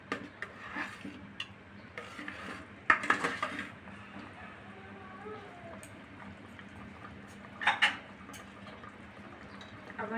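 Khichuri is stirred and mixed in a cooking pot, with soft scraping and a couple of sharp spoon clinks against the metal. A quiet voice is also present.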